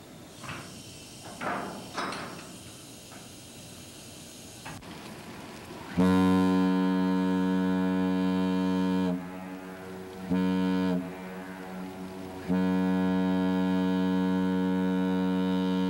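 The Great Lakes freighter Buckeye sounds its deep, harmonic ship horn on approach to the Duluth Ship Canal, signaling for the bridge to open. A long loud blast is followed by a short one, then another sustained blast, over faint wind and rumble.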